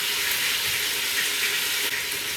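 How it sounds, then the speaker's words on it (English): Chicken pieces browning in an Instant Pot, a steady soft sizzle and crackle of frying meat, even and continuous at moderate level with no talk. "while the meat is browning"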